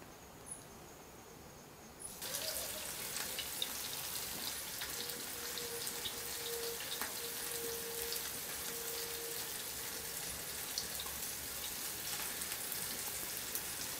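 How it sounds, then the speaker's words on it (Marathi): Bangda mackerel, a fish being fried until crisp on a hot tava griddle, starts sizzling after a short quiet moment, then keeps up a steady, crackling hiss with no talk. "मस्तपैकी आता तव्यावरती घातलेला आहे. चरचरीत असा आवाज यायला लागलाय."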